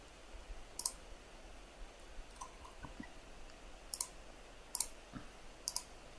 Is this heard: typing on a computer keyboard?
yes